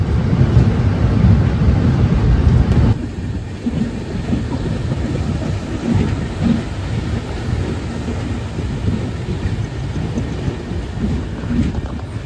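Train hauled by a WAP-7 electric locomotive, heard as a continuous loud rumble of wheels and carriage noise, with a slight drop in level partway through and no speech.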